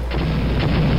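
Blaster fire from a distant stormtrooper in Star Wars: Dark Forces, heard as a short, loud, booming burst that fills the whole moment with dense low rumble.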